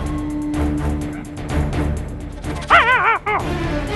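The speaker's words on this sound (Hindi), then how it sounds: "अरे कुत्ता बोल गया जी" A dog barks in a few short yelping bursts partway through, sharp and fairly close over a busy background of rustling and movement.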